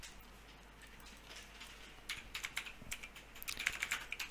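Quiet typing on a computer keyboard, soft scattered clicks that quicken into a busier run of keystrokes toward the end, heard close with no talking.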